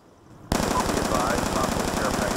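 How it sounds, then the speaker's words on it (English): Sustained automatic gunfire from the video game Call of Duty Black Ops 2 erupts abruptly and rattles on in rapid, loud bursts for a couple of seconds, with no talk over it. "What the hell's shooting?"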